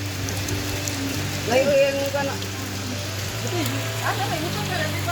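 Steady rain pours down outdoors during a typhoon, a continuous even hiss with faint voices and other sounds passing over it.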